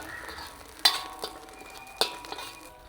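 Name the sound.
sautéing shark fish sambal in a pan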